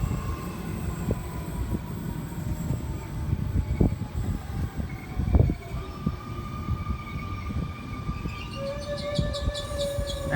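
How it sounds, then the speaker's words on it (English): Two Sydney Trains sets pass through platform 3 at St Peters bound for Bondi Junction, a loud continuous rumble with rattles and clanks, steady tonal motor whine and rising electric tones near the end. "That was T27 and T39 through platform 3 bound for Bondi Junction."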